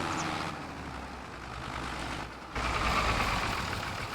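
A vehicle engine in Farming Simulator 25 labours with a rough, strained drone. The roar dips for a moment, then surges louder again, sounding near and continuous.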